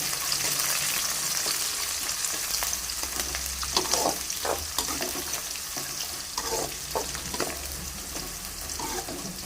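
Onions fry in oil for a dry fish and broad bean curry, giving a continuous close sizzle with scattered crackles and the scrape of stirring now and then.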